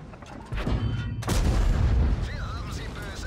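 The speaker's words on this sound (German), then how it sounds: "Zack, der Schuss Richtung Jagdpanther." A heavy tank cannon blast in World of Tanks, a WZ-120-1G firing toward a Jagdpanther, booms out, followed by a rumbling roar and lingering low rumble, loud and close.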